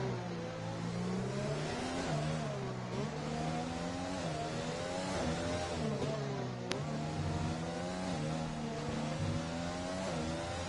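Race car engine in a Singapore round of an online racing game, heard from onboard as a continuous high, whining drone that rises and falls in pitch through gear changes, moderately loud and steady throughout.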